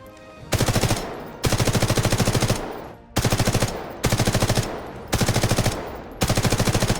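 Bursts of M4A1 rifle fire in the video game Delta Force, six rapid full-auto strings of about a second each separated by short pauses, loud and close with no voices.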